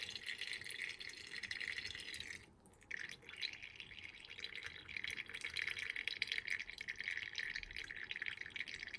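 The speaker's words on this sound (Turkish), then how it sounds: "dediğim gibi fazla suyu kalmadı ama yine de süzüyoruz" Soaked buckwheat draining in a strainer in a home kitchen, a steady soft trickle and patter of water running through grains, continuous and fairly faint with a brief dip midway, no talking.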